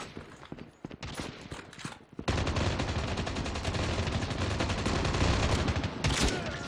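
Dense, loud gunfire in Call of Duty Mobile Crossfire, with sparse shots and clicks at first, then a sustained rapid automatic burst that continues steadily to the end, with no talking.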